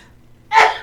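A single sharp sneeze bursts out close and loud after a moment of near silence.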